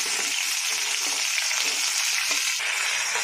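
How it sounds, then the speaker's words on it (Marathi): Onion and tomato fry in a kadhai for paneer, producing a loud, dense, hissing sizzle that holds steady throughout, close to the pan with no speech. "आता आपण यात कांदा आणि टॅमॅटो टाकून घेणार आहोत"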